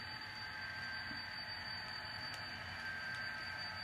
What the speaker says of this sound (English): I can add some more power to keep the train moving.